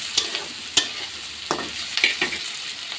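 Capsicum frying in a pan gives a steady, close sizzle, broken by a few sharp scraping knocks as a spoon stirs it. No one speaks.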